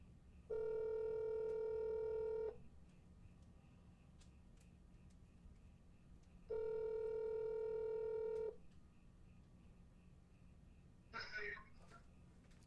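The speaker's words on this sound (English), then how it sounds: "Oh my God, you picked up the phone." A telephone call rings with two long, loud ringback tones separated by a pause. It is followed by a brief clatter as the call is picked up.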